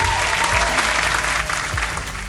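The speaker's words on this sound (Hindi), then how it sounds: "जोरदार तालियां उनके लिए।" Loud, dense audience applause fills the hall for the winner of a woman farmer award at the Krish-e Champion Awards 2020 live show, a steady roar of clapping with no break.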